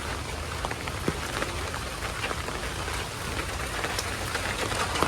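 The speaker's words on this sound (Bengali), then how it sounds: "কারণ একটা না বৃষ্টি হইতেছে" Steady rain pours down on a quiet village road, a dense, even hiss of drops striking the surface with scattered louder splats, continuous and fairly close throughout.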